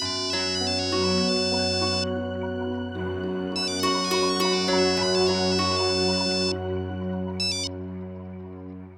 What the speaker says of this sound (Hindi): इतनी देर से घंटी जा रही है